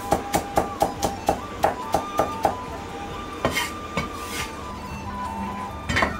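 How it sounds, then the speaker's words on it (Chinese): A kitchen knife chops garlic cloves on a cutting board for a Sichuan dish, giving a quick regular run of sharp taps that then slows to a few scattered knocks, close and clear. "大蒜来个15克，用刀撇破，"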